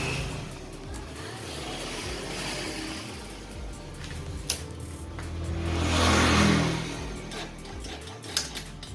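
A Yamaha Jupiter Z new with a smoking exhaust fault is cranked repeatedly with rhythmic starter whirs and a few clicks, then the engine catches briefly and revs up before dropping off, recorded close with no speech.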